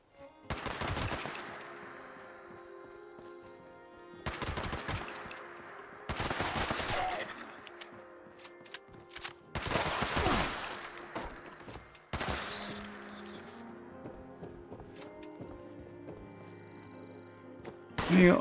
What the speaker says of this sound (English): my best piece of shooting.